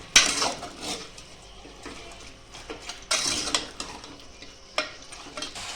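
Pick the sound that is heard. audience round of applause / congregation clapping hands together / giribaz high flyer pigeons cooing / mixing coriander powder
mixing coriander powder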